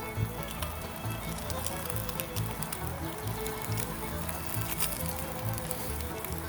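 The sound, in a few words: steak searing on a hot steel griddle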